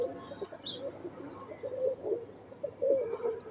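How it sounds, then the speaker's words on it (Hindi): Flying pigeons kept by a fancier coo softly in low, rolling murmurs that rise and fall over several seconds, faint and fairly close, with a brief chirp early on. "ये उड़ाने वाले कबूतर हैं"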